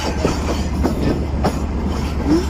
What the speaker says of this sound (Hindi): देखना ये है कि ये कोई पैसेंजर ट्रेन है या फिर माल गाड़ी है।